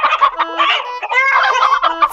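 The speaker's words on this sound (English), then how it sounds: "4 speckled hens," Speckled hens clucking and squawking in a busy, close cluster of uneven calls with no voices over them.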